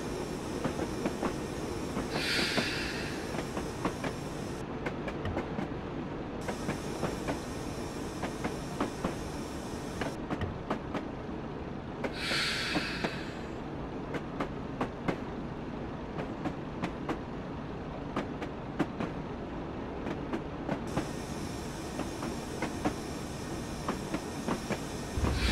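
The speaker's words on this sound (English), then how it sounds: "Love the track audio on this nice" Train wheels clickety-clack over rail joints on the North Somerset Railway, heard from a Class 117 diesel multiple unit in Train Simulator 2016, a steady rolling rhythm with repeated sharp clicks and a couple of brief hissing bursts.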